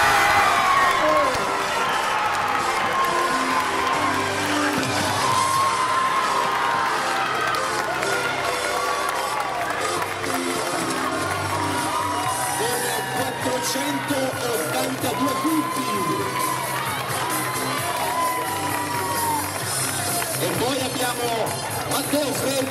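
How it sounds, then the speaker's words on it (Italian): Spectators at a running race cheer and applaud the winners, a continuous crowd roar with scattered shouts and clapping, while an announcer talks over it through a PA. "Matteo Freddi, un bel applauso anche per lui, con 456."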